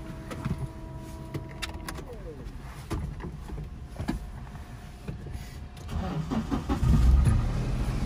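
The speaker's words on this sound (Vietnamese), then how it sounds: "Bây giờ em có thể nổ máy lên cho các bác mình nghe luôn." Japanese-import automatic car starting up: mechanical clicks and creaks, then the engine cranks and catches near the end as a low rumble, heard close, with someone talking over parts.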